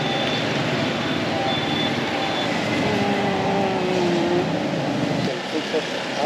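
A car moves along a busy street in Vietnam, its engine hum rising and passing nearby amid street noise and overlapping chatter.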